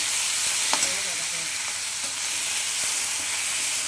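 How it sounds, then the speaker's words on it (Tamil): Onion, tomato and curry leaves softening in a pan give off a steady, dense hiss that holds evenly throughout, with a few faint taps of a spoon, close and continuous with no voices. "நல்லா குழைவாக வதங்கிட்டோம்"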